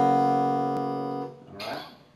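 Electric guitar chord, fretted on the third string with the second string open, rings out sustained and fairly loud for about a second, then decays under a burst of noisier sound near the end.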